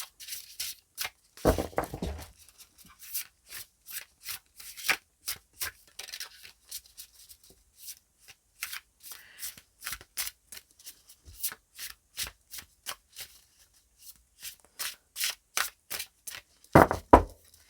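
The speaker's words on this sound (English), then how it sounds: "So we need to get a couple of cards here for Virgo, please." Tarot cards being shuffled by hand, close and clear: a long run of quick papery riffles and slaps with short pauses between bursts, no talking.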